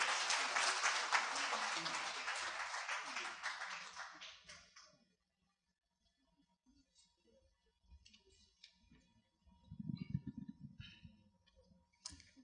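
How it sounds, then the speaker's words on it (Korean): An audience at a university launch event applauds loudly as a professor is welcomed to the stage. The clapping lasts about four seconds and fades into a quiet room, and a voice is heard briefly afterward. "큰 박수 부탁드립니다"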